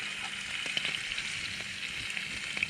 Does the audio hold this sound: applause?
no